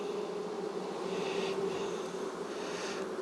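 Honey bees swarm around an opened hive frame, a steady dense buzz that holds close and loud throughout with no voices.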